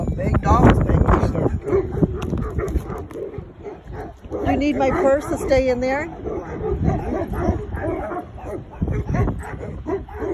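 Several dogs, including big dogs and a Great Pyrenees puppy, bark and yip in bursts, some whimpering and howling, mixed with someone talking close by.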